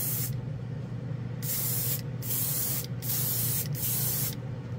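A Master Airbrush G79 sprays acrylic paint in a steady, close hiss broken into several bursts by short pauses as the trigger is released and pressed again.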